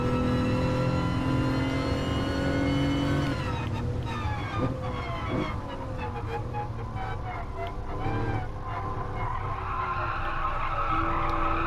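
In Gran Turismo Sport, a car's tires skid with a long, steady squeal whose pitch shifts and wavers over a constant engine drone. The squeal stays loud and close for about twelve seconds.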